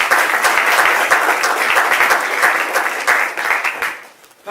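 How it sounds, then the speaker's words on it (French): Audience applause at a theatre play fills the room, a dense, steady wash of many hands clapping close and loud for several seconds before fading out near the end. "je vous applaudis"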